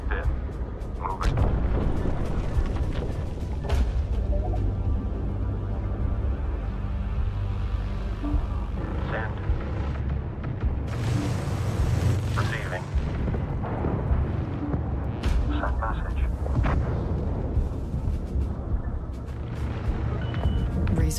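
Heavy, continuous rumbling blasts and booming explosions from a resource controller being destroyed in the space strategy game Homeworld 3, loud and dense throughout with layered impacts, under radio voice chatter.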